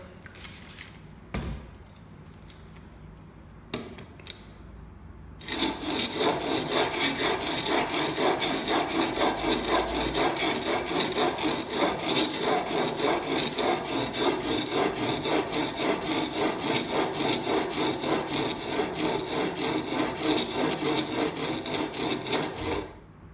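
After a few scattered knocks and clatters, a steel chisel blade is rubbed back and forth on sandpaper in a fast, steady scraping rhythm, close up.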